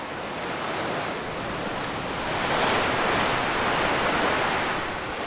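Ocean surf rolls onto the rocky shore of Christmas Island, a continuous wash of waves with wind, swelling louder midway and then easing, with no voices.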